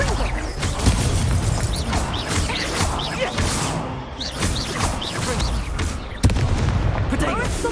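Confringo explosive spell blasts in the Hogwarts Legacy video game, loud booming impacts and crashes layered with combat effects, with a sudden sharp blast near the end and a player shouting spell names over them.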